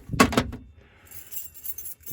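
A bunch of keys jangles briefly up close in a quick metallic rattle, followed by faint shuffling and light jingling in a quiet room.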